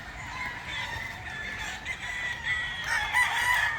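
Chickens cluck and a rooster crows over a steady outdoor hum, the calls growing louder toward the end.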